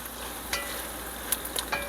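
Chicken and mushroom for chicken primavera cook in a pan with a soft, steady sizzle, broken by a few sharp clinks and scrapes toward the end.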